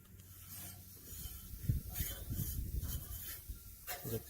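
Muriatic acid fizzing and sizzling on metal: a soft, steady hiss with faint crackling surges, quiet and close, with no voices.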